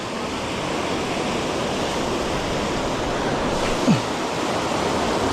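Rough sea waves surging near a shoreline fishing spot, a dense continuous wash of surf with wind noise, steady and fairly loud with one brief bump near the end.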